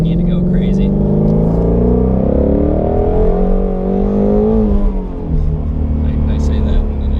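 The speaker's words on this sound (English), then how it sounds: "God, that exhaust. The exhaust never gets old." Shelby GT350 V8 exhaust roaring loud and close as the car accelerates hard, steady rising engine drone with rev changes, a voice speaking over it.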